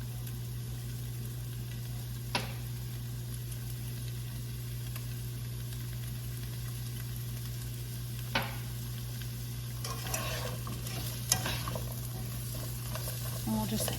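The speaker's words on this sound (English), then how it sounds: "And we'll just continue to saute the zucchini." Zucchini sautéing in a pan after shrimp, a steady low sizzle with a constant hum underneath, broken by a few sharp clicks of a utensil and soft stirring scrapes toward the end.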